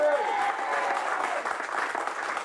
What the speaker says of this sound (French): faites-moi le plaisir de les applaudir très fort